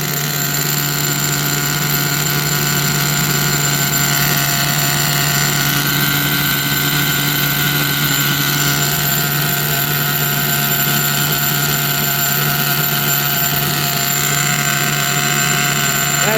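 An OFNA Twin Titan RC car with a small nitro engine idles steadily and loudly, a constant buzzing drone with a high whine that holds unchanged throughout, no voices.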